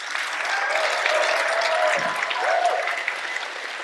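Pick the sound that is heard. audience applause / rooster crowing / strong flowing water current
audience applause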